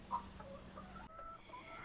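Chickens cluck softly in an urban backyard coop built with a sheet roof and metal frame, a few short calls close by and fairly quiet.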